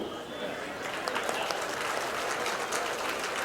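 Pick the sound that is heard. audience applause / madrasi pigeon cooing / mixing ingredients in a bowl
audience applause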